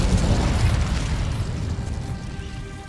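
A fire spell cast in the Hogwarts Legacy video game sounds as a loud, dense whooshing roar that starts at full strength and then slowly fades, rumbling and crackling with no talk over it.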